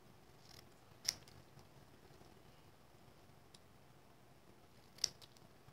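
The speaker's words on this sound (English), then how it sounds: "so we will take this and our snips and I just cut it up here" Two separate crisp snips of metal snips cutting through paper card, a few seconds apart, faint and close against a quiet room.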